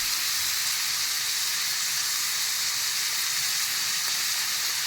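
Broccoli frying in a pan over a low flame for an Indian-style sabzi, salted as it cooks, giving a steady, even sizzle and hiss that runs continuously without any voices.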